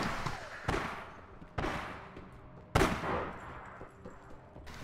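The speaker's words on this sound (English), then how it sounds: "Seeing people shooting, but I don't know where they are." Gunfire in the online shooter APB Reloaded, with three sharp shots spaced about a second apart over a steady background of distant game combat and ambience.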